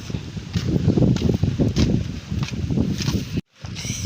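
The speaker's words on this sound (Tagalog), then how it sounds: "Mahangin ho sa labas." Strong wind gusts outdoors buffet the microphone with a loud, continuous low rumble, briefly cutting out before resuming.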